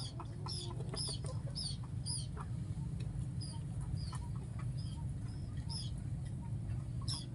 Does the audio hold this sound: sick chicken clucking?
yes